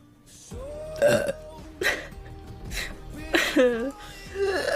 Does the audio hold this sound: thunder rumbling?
no